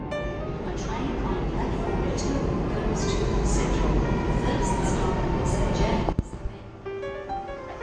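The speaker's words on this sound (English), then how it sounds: "We are in the train station waiting for the next train going to Museum Station" A train pulls into a Sydney station platform with a loud, sustained rumble and rolling rail noise, then a sharp clank near the end as the sound eases off.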